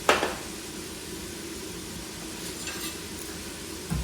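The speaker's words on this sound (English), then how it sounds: "We're going to let those onions and that celery saute for about 5 minutes" Onions and celery sauté in an Instant Pot, giving off a steady, soft sizzle and hiss throughout, with a spoon stirring and scraping briefly at the start and again near the end.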